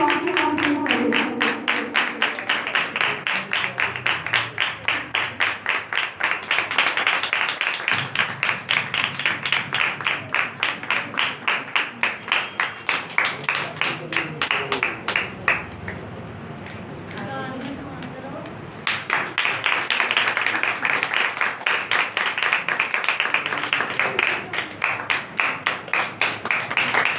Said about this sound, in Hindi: आप सबकी भरपूर तालियों के साथ, आप सबकी तालियों से आपकी काम करें